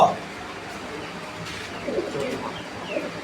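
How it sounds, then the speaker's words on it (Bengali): A Jacobin pigeon at a fancy pigeon farm gives soft, low cooing amid a busy background of other birds and faint voices, moderately close. "এটা হচ্ছে একটা জ্যাকোভিন কবুতর"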